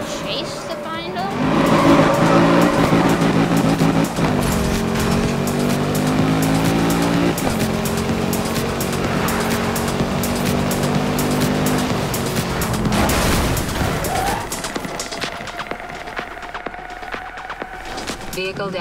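A racing car roars in the video game Need for Speed, its engine droning loud and steady with pitch shifts and tire squeals as it chases, while in-game voices speak over it.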